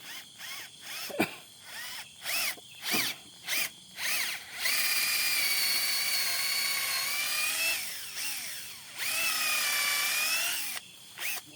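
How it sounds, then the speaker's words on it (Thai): A power drill bores into a bamboo stalk at night to draw its water, first in short stop-start bursts, then in a long, steady, close, high-pitched whine that dips and rises under load before cutting off. "เราได้เจาะไปแล้วนะฮะ"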